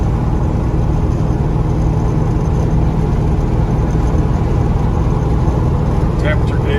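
A 1983 Chevrolet C10 4x4 pickup on 20-inch tires cruises at about 50 mph on a windy day, giving a steady, loud wash of road and engine rumble from inside the cab that stays constant throughout.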